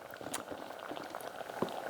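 Mango pieces bubbling as they cook in a pan for a Kerala recipe, a soft continuous simmer of small pops and sputters, fairly quiet and steady throughout with no voices.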